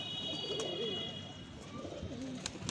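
Pigeons coo softly in a few low, rounded phrases among newly released birds, with faint background chirps and a steady ambient hiss.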